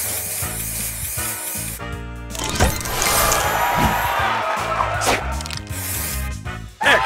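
A spraying effect in the Match Masters mobile puzzle game: a hissing, sizzling burst sweeps through the middle of the clip over game music and clicky chimes, loud and close.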